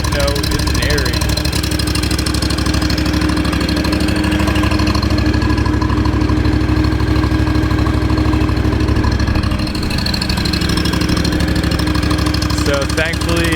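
A Classen stand-on aerator from Schiller Ground Care idles loud and close, its steady mid-pitched engine drone running unbroken throughout while someone talks over it.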